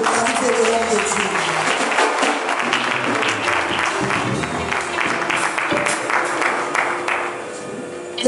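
A congregation at a gospel praise day celebration breaks into sustained applause, a dense crowd clapping that carries on steadily with a voice speaking over it.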